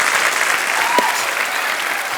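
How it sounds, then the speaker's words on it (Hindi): Studio audience applause on a Hindi TV comedy show, a steady dense wash of clapping that runs throughout at fairly close range, with a brief tonal blip near the middle. "जोरदार तालियां यार।"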